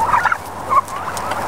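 Commercial meat turkeys on an organic homestead gobbling, two close, loud warbling bursts a moment apart over quiet background.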